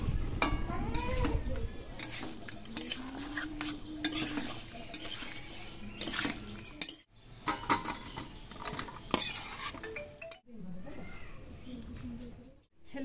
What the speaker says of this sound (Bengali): একটু উল্টি পাল্টি নেড়ে নেব